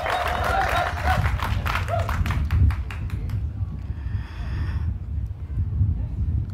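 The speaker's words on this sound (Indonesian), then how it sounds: "beri tepuk tangan yang meriah" Audience applause at the opening ceremony of an international orchid exhibition in Bali, a dense crowd clapping steadily for a few seconds and then fading to a low murmur of the room.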